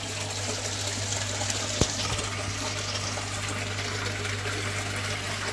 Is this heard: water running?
yes